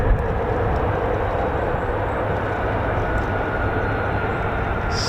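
A military fighter jet taxis at RAF Lakenheath, home of F-15 and F-35 fighters, giving a steady, loud engine roar and broadband rumble that holds evenly throughout without breaks.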